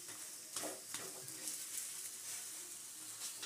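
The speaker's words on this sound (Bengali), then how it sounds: "তেল দিয়ে ওটাকে ভেজে নিচ্ছে।" Green pea paratha frying in hot oil gives a steady, soft sizzle with faint crackles throughout, quiet and close, with no voices.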